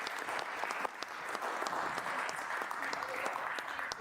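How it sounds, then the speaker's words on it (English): Audience applause for the panelists at a sustainability and energy-transition forum: a steady, dense wash of clapping from a room full of people, sustained evenly for about four seconds with no voices on top. "a big round of applause, please, for our fantastic panelists"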